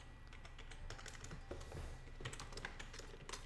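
Steady typing on a computer keyboard during a game development session, with rapid irregular clicks of keys close by and no speech over them.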